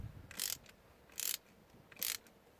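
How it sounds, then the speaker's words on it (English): A screw is driven through an awning light into a boat bulkhead in three short bursts of ratcheting, buzzing mechanism noise, fairly faint and close, with quiet pauses between them. "Screw these straight onto the bulkhead."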